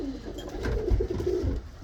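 A pigeon, one of several blue birds being picked for a flight, gives a soft, low cooing close by, steady throughout with no talk over it.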